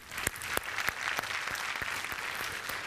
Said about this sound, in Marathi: सगळ्यांसाठी एकदा टाळ्या झाल्या पाहिजेत